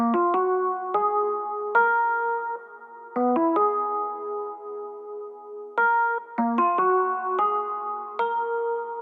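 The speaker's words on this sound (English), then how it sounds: "Next, we have these Rhodes leads, and they sound like this." A Rhodes-style lead synth from Omnisphere, played in FL Studio, rings out clean sustained electric-piano notes in short phrases and held chords, alone with no voices.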